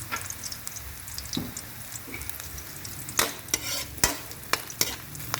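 Bitter gourd (ampalaya) frying in oil crackles close by as a utensil stirs and scrapes the pan, with a few sharp clatters toward the end and no voices.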